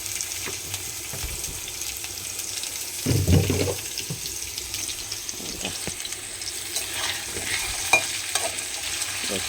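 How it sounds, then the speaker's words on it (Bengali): Potatoes frying in a little mustard oil in a pan, a soft steady sizzle running throughout with occasional stirring scrapes and clatters, one louder knock near the middle, no talking. "এখন আলুগুলো একটু লাল লাল করে ভাজতে হবে তার জন্যে অল্প সর্ষের তেল দেবো"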